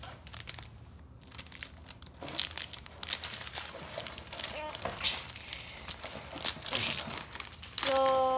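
Match Attax 2017/2018 football card packet wrapper being torn open, with crinkly foil crumpling and tearing over several seconds, close and fairly loud, with soft background talk.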